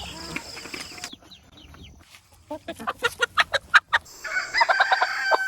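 Chickens cluck close by in a quick rhythmic run of short clucks, with more squawking and calling from the flock around them.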